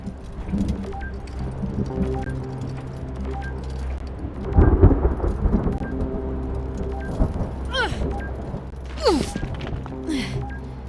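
Rolling thunder from a video game thunderstorm, with low sustained rumble throughout, a heavier crash near the middle and fainter cracks toward the end, mixed with game sounds and a bit of voice.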